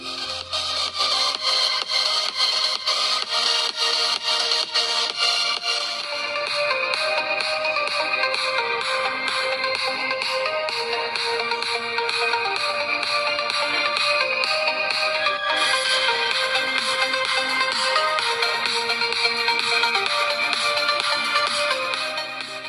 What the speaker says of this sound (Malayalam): ഇനി ഫോണിന്റെ സൗണ്ട് ക്വാളിറ്റി ഒന്ന് ടെസ്റ്റ് ചെയ്ത് നോക്കാം എത്രമാത്രം ഉണ്ട് സൗണ്ട് എന്ന്.